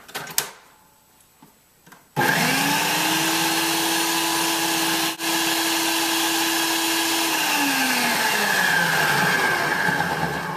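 A food processor starts abruptly after a quiet moment and runs loud and steady, whirring as it chops cauliflower for a Spanish rice dish, with a brief dip in the motor partway through.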